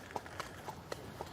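A horse's hooves clip-clop at a steady walking pace, five distinct sharp hits at regular intervals over a faint background, with no talk.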